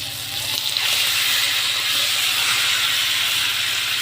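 Chicken meat dropped into a hot pan of well-fried onions sizzles and hisses steadily, a loud, close, continuous frying sound with no talking.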